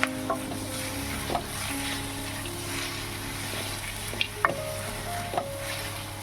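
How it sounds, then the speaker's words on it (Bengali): Onions frying in a pan as part of a Bengali mutton curry, a steady sizzle broken by several sharp clinks and scrapes of a spoon stirring against the pan, close and alone. "আবারও ভালো করে নাড়াচাড়া করে নেব পেঁয়াজগুলো একটু লালচে করে ভেজে নেব"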